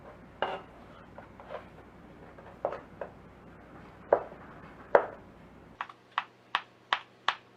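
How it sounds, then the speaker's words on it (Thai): A series of sharp knife taps on a cutting board as cooked egg is sliced into thin strips, irregular at first, then a quick steady run of five or six crisp chops near the end. "ไข่ที่เราทำไว้พอเย็นก็จะมาหั่นฝอยค่ะ"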